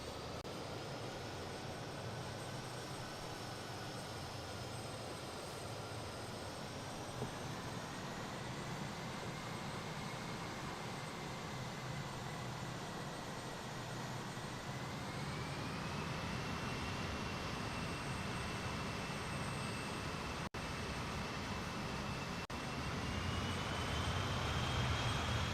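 BAE-146 jet engines whining steadily while the airliner taxis in Microsoft Flight Simulator 2020, a continuous rumble with rising and shifting tonal whines that grows slightly louder toward the end.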